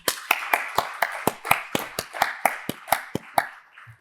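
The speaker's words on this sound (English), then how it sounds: "Let's have a round of applause for him" Applause at a panel event for a leading AI figure, heard as a sparse, rhythmic run of about fifteen sharp, evenly spaced claps, fairly close, thinning out near the end.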